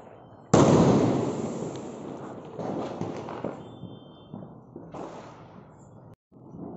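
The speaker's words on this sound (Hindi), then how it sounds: "अब टेस्टिंग करते हैं सिंगल स्काई शॉट का" A single sky shot firework being test-fired outdoors, one loud sharp launch blast followed by crackling bursts and pops fading over several seconds, with no talk.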